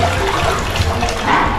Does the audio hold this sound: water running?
yes